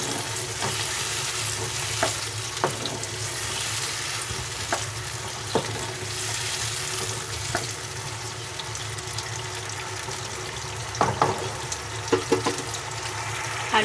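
Potatoes frying with masala in a pan give a continuous close sizzle, broken by repeated clacks and scrapes of a spoon stirring and mixing throughout.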